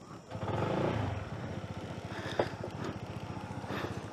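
A motorcycle picks its way along a rough, narrow dirt road, its engine chugging in a steady low pulse, close up, with a bump or scrape partway through.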